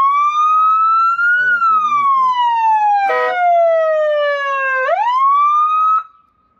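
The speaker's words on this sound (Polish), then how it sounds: "Czekaj, syren." A wailing police-style siren on a 1942 Harley Flathead chopper sweeps steadily down and back up in pitch, loud and close, with brief bursts of other tones and a few spoken words before it cuts off.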